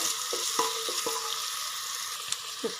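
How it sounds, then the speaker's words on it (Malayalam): Tomato gravy for a beef roast frying in a pan, with a steady close sizzle broken by several soft scraping stirs of a spoon through the thick mixture. "ഇതൊന്ന് നന്നായിട്ട് മിക്സ് ചെയ്ത് വരട്ടെ കേട്ടോ. തക്കാളിയും കൂടി ഒന്ന് നന്നായി വഴഞ്ഞ്"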